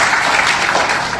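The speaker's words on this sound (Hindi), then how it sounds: "उनके लिए जोरदार तालियां बजाएं" Audience clapping at an Art of Living intuition camp held at Tagore College in Suratgarh, a dense, steady wash of applause from many hands with no talk over it.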